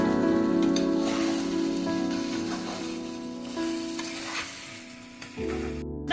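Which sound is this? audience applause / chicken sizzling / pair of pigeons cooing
chicken sizzling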